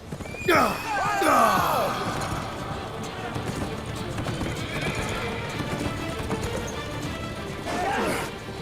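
Horses charge in a battle scene from the Ottoman historical drama Kurulus Osman, with several loud whinnies near the start and end over steady, dense galloping hoofbeats and clatter, with shouting voices mixed in.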